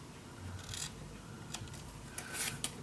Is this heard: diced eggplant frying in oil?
no